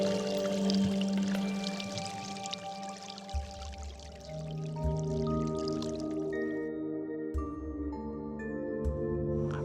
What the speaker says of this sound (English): Now the waters are moving again.